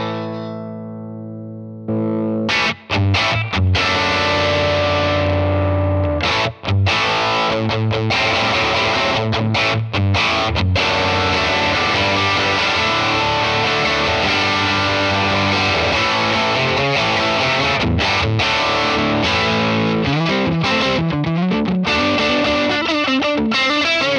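Electric guitar played through a Klon clone overdrive pedal into a pedal-platform amp model: a sustained opening chord gives way to busy, driven riffing with overdriven grit and a touch of reverb, continuous and loud, with no voices.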